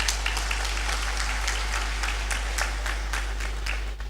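Audience applause at a university graduation ceremony fills the hall, steady and fairly loud, with distinct individual claps standing out over a constant low electrical hum.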